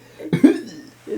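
A person imitates a little kid's cough: two quick, fairly close coughing bursts with a breathy tail, followed by a softer throaty sound, alone without talk.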